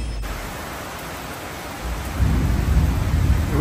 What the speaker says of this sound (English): It was raining pretty hard earlier.